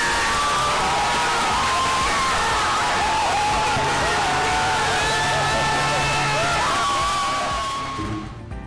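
A large crowd at an ice hockey game roars and cheers after a goal, a sustained loud wash of shouting and whoops with voices on top, easing slightly near the end.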